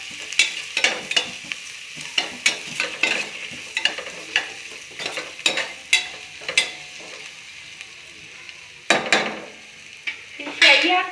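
Spoon repeatedly scraping and stirring a salted tomato mixture frying in a pan, with sharp rhythmic clinks against the metal over a steady low sizzle, close and fairly loud.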